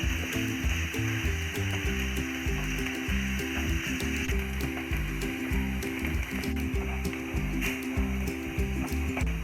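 Onions and coconut pieces sautéing in a pan for a Kerala-style pepper beef fry, giving a steady, close sizzle with a low, rhythmic tapping or stirring running underneath throughout.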